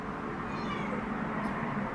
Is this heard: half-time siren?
no